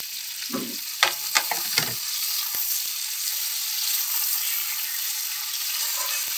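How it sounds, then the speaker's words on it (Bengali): Ginger, cumin and garlic paste sizzles steadily in hot oil in a pan, a continuous broadband fry with a few early stirring scrapes and taps, close and fairly loud with no talking. "তো মশলাটা দিয়ে আমি এখন ভালো করে ভেজে নেব"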